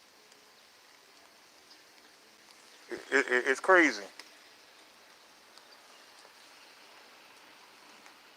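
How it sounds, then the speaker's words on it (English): Rain pours steadily outdoors as a soft, even hiss through the whole stretch, while someone speaks briefly over it midway. "Now it's pouring down raining."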